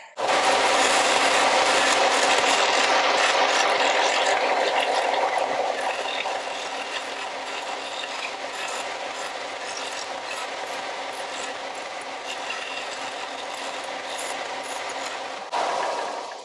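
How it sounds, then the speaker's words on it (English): Wooden pieces cut from a twisted piece of wood being sanded and smoothed by hand, a steady close rasping rub that runs continuously, loudest at the start and easing slightly midway, with no talking. "They'll need sanded and smoothed. So let's do that."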